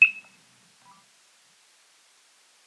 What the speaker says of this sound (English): listen closely to the beeps that you hear when you scan a barcode